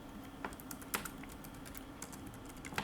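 Keys tapped on a computer keyboard while entering a title in video editing software, a steady run of light, irregular clicks at close range with no talk.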